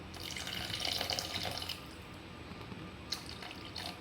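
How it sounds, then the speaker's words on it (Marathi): Rice flour water poured slowly into a pot of cooking okra curry, a soft trickling splash that is strongest for the first second and a half, then eases into a quieter, steady run of liquid. "तांदळाचे पिठाचे जे पाणी केलेले होते ते आता आपण यामध्ये हळूहळू"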